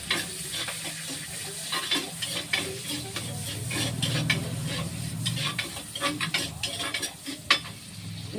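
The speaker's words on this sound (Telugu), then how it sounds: "అందులో నూనెలో మంచిగా ఫ్రై అయిపోతుంది" Curry leaves frying in oil in a clay pot, a steady close sizzle with light stirring and scraping throughout, no voices.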